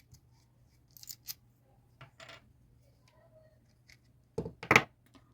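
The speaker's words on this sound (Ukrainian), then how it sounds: "Коли ми знімаємо ручку катушки, це робиться дуже просто." Handle being removed from a JinTai Доюй HY 3000 baitrunner fishing reel, a series of small metallic clicks and light taps, then a couple of sharper close clatters near the end, over a faint steady hum.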